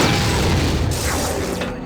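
Loud, dense gunfire in the shooter Coded Arms, a sustained booming barrage of shots with mechanical clatter filling the whole moment, close and without talk.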